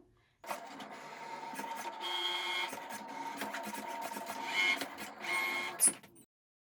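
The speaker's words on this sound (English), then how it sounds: "so it's done cutting our first mat" A Cricut Maker runs a cutting pass with a rotary blade through fabric on a mat, a steady mechanical whirring with stop-start bursts and carriage movements, close and moderately quiet, ending abruptly.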